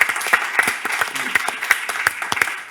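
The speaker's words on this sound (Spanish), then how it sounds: "Pues un aplauso para Susana." An audience at a Spanish comedy festival applauds for Susana, brisk hand claps, close and steady with a few sharper accents, and a voice briefly heard underneath.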